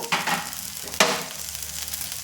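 Curry leaves crackle and sizzle in hot oil in a tadka with turmeric. Two sharp bursts of spattering land close and loud, and a steady fry hiss follows. No one speaks.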